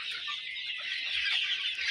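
A flock of local-breed chickens on a small farm clucks continuously, a dense, busy chatter of many birds close by.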